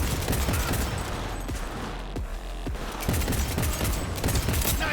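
Dense, continuous gunfire from the video game Cyberpunk 2077, with rapid shots layered over one another in a loud, sustained firefight across the whole stretch.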